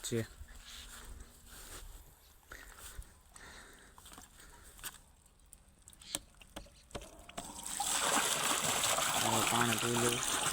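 A water pump motor on a farm well is switched on, and after a quiet stretch with scattered voices and handling noises, loud steady gushing water bursts in and keeps flowing to the end.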